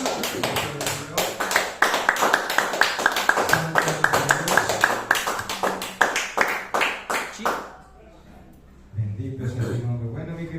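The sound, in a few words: applause from church congregation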